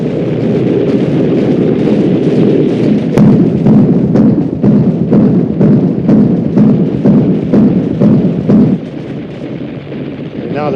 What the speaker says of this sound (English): Bismarck has put up very heavy anti-aircraft